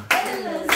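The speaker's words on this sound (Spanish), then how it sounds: "¡Aplauso!" A couple of quick bursts of hand clapping among a small group during a mystery-box prank, close and brief, with a sustained tone running between them.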